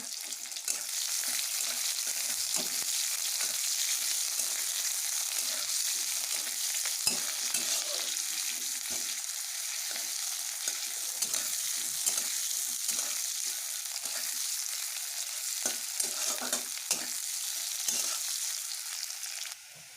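Onions frying in a pan for a potato, eggplant and drumstick curry, a steady bright sizzle with occasional stirring scrapes, close and continuous throughout with no talking.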